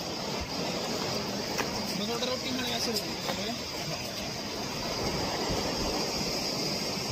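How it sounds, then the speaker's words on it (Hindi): The Subni Khad river near Shimla rushes in a constant broadband roar, steady and fairly loud, with faint voices in the background. "ये था सुबनी खड, ये नदी है"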